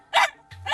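A pet dog with a hoarse, strained voice lets out two sharp barks close by, separated by a short pause.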